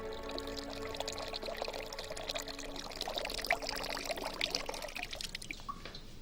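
Water streams steadily into a replica of Ctesibius's ancient water clock, a continuous close pouring and trickling that holds an even level for about six seconds with no voices.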